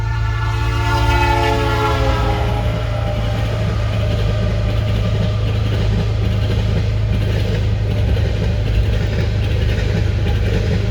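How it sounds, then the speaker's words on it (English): Train on the far track at a renovated crossing at CP Johnson Road, passing steadily with a continuous rumble and a horn sounding in the opening seconds, constant and fairly loud throughout. "There's a train on the far track."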